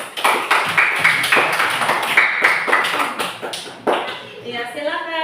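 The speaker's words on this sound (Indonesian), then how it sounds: "Tepuk tangan." Several rounds of hand clapping in a classroom, sharp rhythmic claps in short bursts with some tapping, a voice briefly heard near the end.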